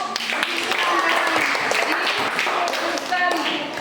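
A school class at a practical exam claps in applause, a steady burst of hand claps over lively chatter and voices.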